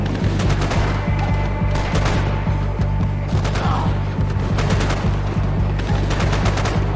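Rapid bursts of automatic gunfire in Max Payne 3 crack repeatedly over a low rumbling background, loud and close, with short gaps between volleys.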